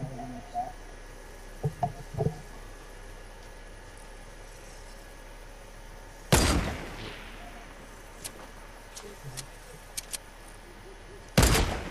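Sniper rifles fire in Fortnite, two sharp loud cracks several seconds apart, each trailing off briefly, with faint scattered clicks and people talking in between.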